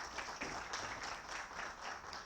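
An audience applauding to welcome a speaker at an evening public-policy event, dense steady clapping filling the room throughout with no pauses.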